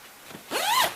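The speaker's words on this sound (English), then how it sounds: "And it kind of zips open." The door zipper on an Eskimo Fatfish ice fishing shelter is pulled open in one quick, close rasping stroke that rises in pitch as it runs.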